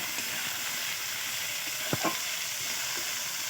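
Vegetables including cabbage being stir-fried in oil, a constant close sizzle with a couple of quick knocks of a spatula against the pan.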